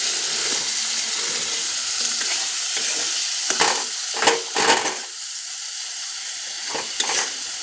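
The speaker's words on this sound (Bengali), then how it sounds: "কষছি।" Spice masala with salt sautés in a pan, a steady close sizzle broken by several scraping stirs, some in a quick cluster in the middle and a couple more near the end.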